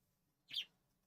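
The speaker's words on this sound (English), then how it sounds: "My male bird, if you heard him. He's louder than the female." A male pet bird gives one short, sharp chirp that rises out of a quiet room with a low hum behind it.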